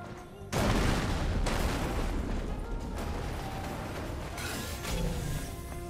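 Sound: explosion in a video game

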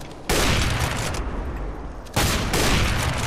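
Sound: shotgun fire in Counter-Strike: Global Offensive video game

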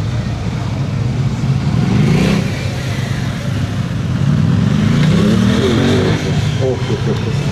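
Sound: Aprilia RS660 two-cylinder motorcycle accelerating

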